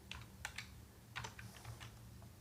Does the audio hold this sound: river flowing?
no